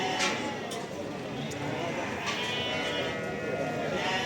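Sheep bleat at the Barda sheep market in Azerbaijan, faint calls rising over a constant crowd murmur with voices talking nearby.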